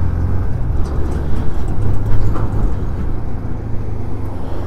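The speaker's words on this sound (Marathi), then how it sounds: "इथे थोड्या प्रमाणात ट्रॅफिक लागलं होतं" Road traffic on the Mumbai-Goa highway NH66: a steady, loud low rumble of passing cars, buses and trucks, continuous throughout with no talk.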